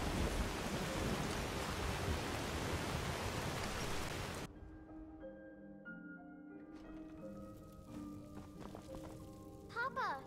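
Steady, loud rain pours down in Skyrim for several seconds, then cuts off abruptly, giving way to quiet tonal music.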